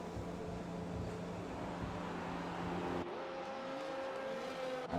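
A Williams Formula 1 car in the F1 2021 racing game pulls away from a pit stop, its engine droning steadily before the pitch sweeps upward as it accelerates, loud and close throughout.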